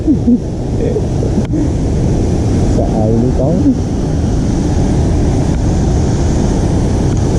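Steady roar of big surf at close range on Pacar Beach, Tulungagung, Indonesia, continuous and loud, with a person talking briefly over it.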